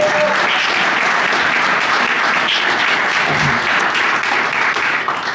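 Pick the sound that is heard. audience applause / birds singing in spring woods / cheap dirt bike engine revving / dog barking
audience applause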